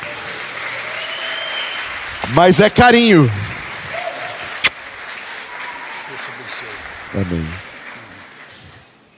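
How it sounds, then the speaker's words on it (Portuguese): Church congregation clapping in a brief burst during a pastor's sermon, with a preacher speaking before and after and a couple of short vocal interjections over a roomy background. "Uma salva de palmas pela vida dele."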